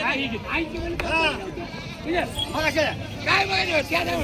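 Goats bleat repeatedly at a busy village goat market in Hingoli district, several wavering calls near and mid-distance over people talking and haggling.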